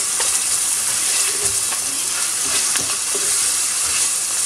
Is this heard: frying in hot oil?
yes